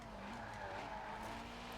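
Tires of a Porsche 356 RSR in Forza Horizon 4 scrub and squeal for grip under a steady, strained engine drone, a continuous close skid with no talk over it.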